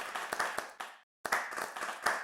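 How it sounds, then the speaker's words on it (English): A conference audience applauds a panel organizer, a quick patter of many hands clapping at moderate distance, cut by a short silent gap before the clapping resumes. "could we give Dee Dee a huge round of applause"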